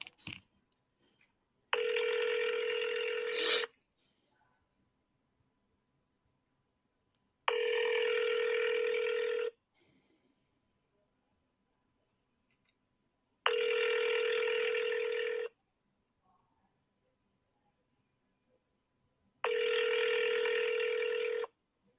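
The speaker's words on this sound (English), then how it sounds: "Just give him another ring real quick and then let's see what happens." A telephone call rings through to voicemail: four evenly spaced, two-second ringback tones with quiet gaps between them, clear and steady on the line.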